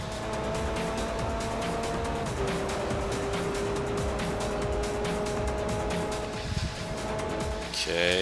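Race car engine from Forza Motorsport 4 drones steadily through a two-lap race, with a sustained whine that shifts pitch as the car climbs a hill and picks up speed, a loud continuous roar throughout.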